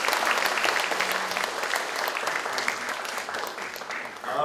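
Warm applause from the audience at a mental health center opening lecture, a dense, even wash of many hands clapping that holds steady throughout and tapers slightly at the end.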